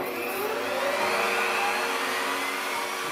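A router fitted with a flute bit flattening a wood slab on a sled, a loud continuous high whir with a steady grinding edge, close and unbroken, no talk.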